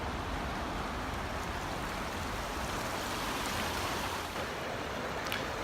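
A river creek flows steadily beside a campground, giving a continuous broadband rush and hiss of moving water that stays even and unbroken throughout, with no voices over it.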